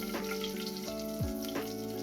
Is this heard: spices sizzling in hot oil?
yes